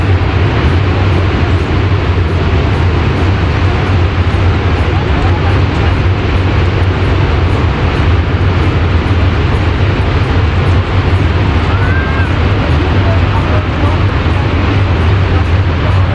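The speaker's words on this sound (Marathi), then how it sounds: "बघा ते ट्रेन त्या पुलावरून जाते" A loud, continuous rumble and clatter of a heavy train crossing a bridge on India's Central Railway main line rolls on without pause, filling the scene with steady roaring noise.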